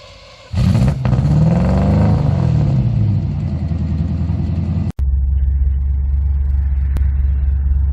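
A modified 1972 MGB GT with a 4.6 V8 pulls away, its engine roaring up through the revs, then dropping into a steady, deep, loud rumble after a gear change, heard from inside the car.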